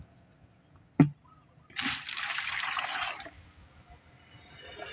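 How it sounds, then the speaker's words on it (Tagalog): About four litres of water are poured into a container to dissolve triple 14 fertilizer for bougainvillea. A sharp click comes first, then a steady, close gushing pour that lasts over a second before tapering into faint trickles. "lalagyan natin ng 4 na litro na tubig"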